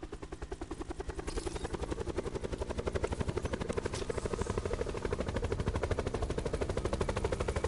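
Video game helicopter rotor thumps steadily and loudly throughout, with rapid bursts of gunfire mixed into the dense, continuous roar.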